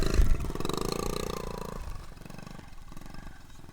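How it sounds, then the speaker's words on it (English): A vintage 1970s trail bike, about 53 years old and ridden in first gear by a young child, heard as a rough, rising engine drone that fades as it pulls away. "A 7-year-old on a 53-year-old trail bike."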